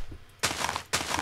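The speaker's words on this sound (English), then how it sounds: "Wow, this TNT feast explosion is going to be so amazing." Two sharp, loud bursts about half a second apart from a TNT explosion at the feast in the video game Minecraft Hardcore Games, each a broad crackling blast with no voices over them.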